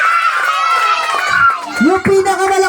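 Children cheer and shout loudly at an eighth birthday party, a dense crowd of high voices sustained throughout with an adult voice rising over the noise near the end.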